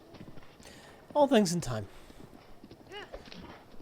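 A horse in a Zelda video game, clip-clopping hooves with a whinny over them and a game voice speaking, moderately loud.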